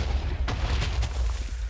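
A few rapid TNT blasts in the Minecraft video game, sharp booming bursts clustered within a second or so, moderately loud over a low rumbling background, with no talking.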